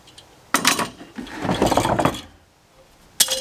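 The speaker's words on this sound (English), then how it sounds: "Take the clamp off." A clamp is loosened and removed from a bar stool upholstery job: sharp mechanical clicks and ratcheting bursts, then a longer scraping, rattling stretch, and a final click, close and distinct.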